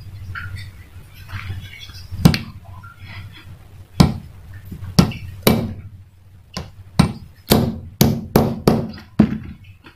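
A steel pin is hammered against a bicycle chain link to drive it out, giving about a dozen sharp, close metallic strikes, scattered at first and then coming in a steadier rhythm with faint background noise between them.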